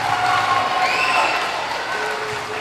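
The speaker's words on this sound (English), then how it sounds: "Let's give them all a round of applause." A school audience at an elementary school Black History Month celebration claps briefly, a dense burst of applause that is loud at first and tapers slightly over a couple of seconds.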